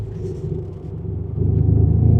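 BMW G90 M5 on a racetrack, heard from inside as the engine's low rumble swells from a steady drone into a louder, building roar under acceleration, with no talking.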